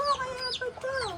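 Chicken clucking close by on a rural property, a few quick bright clucks and squawks in a short burst, fairly clear with no one talking over them.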